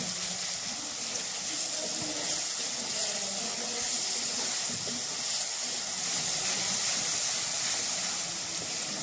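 Garlic, chili and ginger paste with asafoetida and fennel seeds sizzles gently in hot oil over a low flame, a steady soft hiss that stays even from start to finish.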